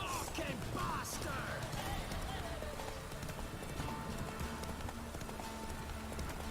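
Hoofbeats of Geralt's horse Roach galloping in The Witcher 3, a steady clip-clop rhythm running throughout under game ambience and a voice.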